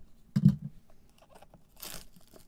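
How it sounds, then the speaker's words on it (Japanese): A Leaf Pop Century trading card box being opened by hand: a sharp crunch of cardboard and wrapper tearing, then a brief crinkling rustle, close and fairly quiet with no talking. "ポップセンチュリー一つ開封して"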